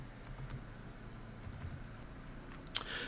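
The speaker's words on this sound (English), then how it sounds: "I'm going to type firewall." Keystrokes on a computer keyboard typing a word during a networking software demo, faint soft taps over a low steady hum, ending in one sharper click near the close.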